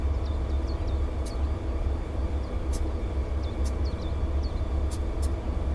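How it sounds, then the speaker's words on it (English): Scattered high-pitched squeals from the wheels of a train descending the steep Saluda Grade in the Train Simulator Classic game, with short shrill chirps and squeaks over a steady low rumble of the moving train. "this is an excessive amount of wheel squeal"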